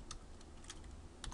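Quick, uneven keystrokes tapped on a computer keyboard, a short burst of clicks with small pauses, fairly close and quiet, no voices.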